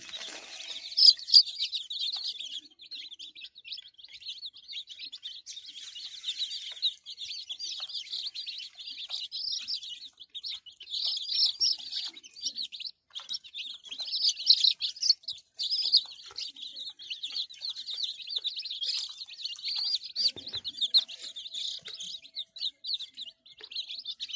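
Many chicks chirp and peep continuously in high, busy chatter, steady and fairly close throughout, with no talking.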